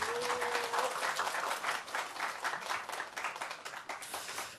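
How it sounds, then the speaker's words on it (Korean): An audience at a youth political camp orientation gives welcoming applause, a fairly quiet, even patter of many hands clapping that stays continuous and moderately distant throughout. "여러분 환영의 박수 부탁드리겠습니다"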